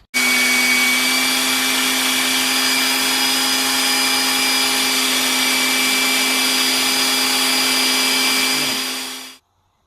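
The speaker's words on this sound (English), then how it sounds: "I'll do the profiling on the grinder" A grinder profiles a Damascus steel knife blank, a loud continuous whine with a steady tonal hum that holds for about nine seconds before spinning down to silence.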